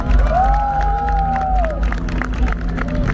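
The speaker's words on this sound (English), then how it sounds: "clap your hands and make some noise" Street-show crowd in Times Square at night clapping and cheering, with a loud whoop rising over the dense applause and chatter of the surrounding audience.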